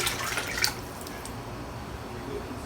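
Grease, drippings and water from cooking steak poured through a strainer, a short splashing liquid pour that trails off into faint trickling and dripping.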